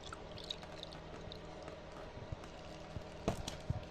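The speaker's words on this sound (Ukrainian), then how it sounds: "І першим ділом я заливаю сюди воду." Water is poured into a Chinese petrol chainsaw set level on a surface: a quiet, steady trickle with a few soft clicks and knocks near the end, with no talking.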